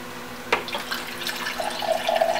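Filtered drinking water from a Doulton/Berkey gravity filter trickles and splashes into a container after a sharp knock, a steady, close flow that gets brighter toward the end.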